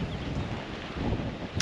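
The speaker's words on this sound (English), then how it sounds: "So the only thing is the wind." Strong coastal wind near Newlyn and Lamorna Cove buffeting the microphone, a loud continuous low rumble with gusty surges.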